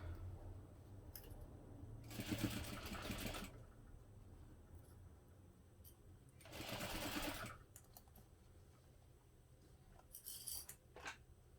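A sewing machine stitches a seam through the fabric of a clutch bag, running in two distinct bursts of a few seconds each with quiet pauses between them and faint handling clicks near the end.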